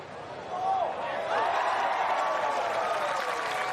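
Large golf gallery gathered around the 18th green at the Meijer LPGA Classic, a swelling roar and applause that builds quickly and holds steady, heard from a moderate distance.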